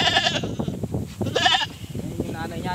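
An F3 Boer goat bleats loudly nearby, with two or three wavering cries spread across the moment, while someone talks over the farm background.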